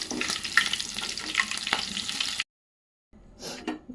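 Green chilies and curry leaves fry in oil for lemon rice, giving a crackling sizzle with stirring clicks. It drops to a sudden silence, then resumes briefly.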